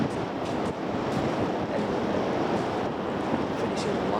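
Wind buffets the microphone on a beach beside a pier at low tide, with steady surf washing in the background, loud and continuous, and no clear talk.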